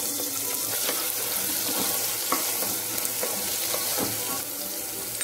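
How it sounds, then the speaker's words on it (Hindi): Onions fry in hot oil with browned peanuts, giving a loud, dense, continuous sizzle close by, with faint stirring scrapes and no voices. "इसको थोड़ा सा फ्राई कर ले तेल में।"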